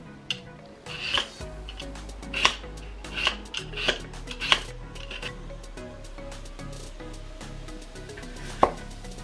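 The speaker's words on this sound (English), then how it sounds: "Peel potato." A potato is peeled with a knife while preparing Japanese nikujaga beef stew: irregular scraping strokes and occasional sharp taps on a cutting board, close and fairly quiet, with no talking.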